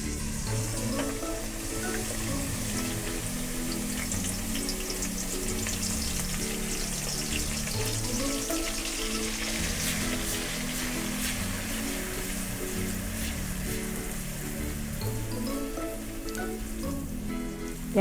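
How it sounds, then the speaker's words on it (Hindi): Three large chopped onions fry in hot oil for a goat trotter curry, giving a continuous, loud sizzle and crackle that holds steady for the whole stretch with no talking. "प्याज को लाइट गोल्डन कलर आने तक हम अच्छी तरह फ्राई करेंगे।"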